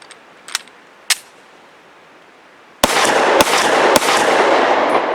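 A Walther PPQ SC pistol fires Hornady XTP 115 grain hollow point rounds: two faint early pops, then a loud sharp shot followed by two more close, rapid shots over a sustained bright echoing roar, as at an outdoor range.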